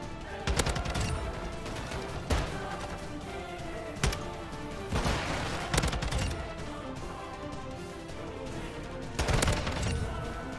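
SCAR rifle fire in Modern Warfare 2, with repeated bursts of rapid shots and scattered single cracks among loud in-game gunfire, dense and close, over a busy battle background.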